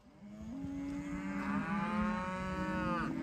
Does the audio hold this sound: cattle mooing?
yes